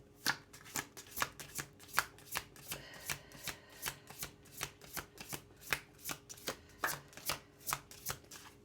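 Tarot cards shuffled and drawn from a deck, a steady run of crisp riffling snaps about twice a second, close and fairly quiet with no talking.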